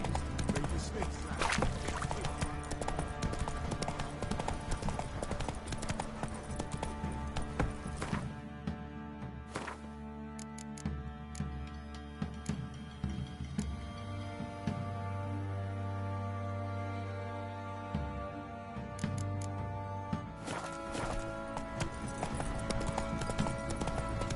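Steady clip-clop of horse hooves galloping in The Witcher 3, a fast rhythmic beat that runs almost throughout with only a brief easing near the middle, under game music and ambience.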